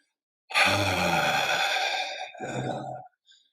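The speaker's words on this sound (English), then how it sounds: "Begin by breathing out all your air." One long, deep breath out empties the lungs in a slow, close, breathy rush that trails off, then comes a brief softer puff.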